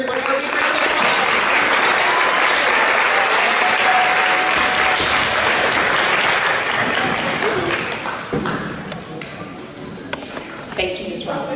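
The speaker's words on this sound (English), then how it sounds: "Let's give all of our winners one more big round of applause." A school board meeting audience gives a big round of applause for student writing award winners, dense sustained clapping that fades and tapers off over the last few seconds.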